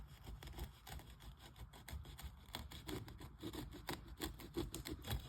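Shower curb mortar mud being cut down along float strips, a repeated scraping and rasping stroke against the wet mud, fairly quiet and close, with no talking.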